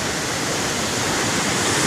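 Water rushes from an open dam gate in a steady, loud, broadband roar that fills the whole moment without pause.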